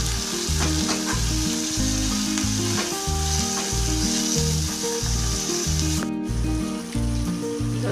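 Tomatoes sizzle and fry in a pan while being stirred for a corn chevda, a steady close crackle with scraping stir sounds running throughout over rhythmic background music.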